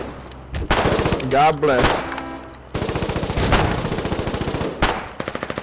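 Rapid automatic gunfire from the online war game Foxhole, bursts of machine-gun shots rattling in quick, even rhythm, loud and close, with someone talking briefly over the early part.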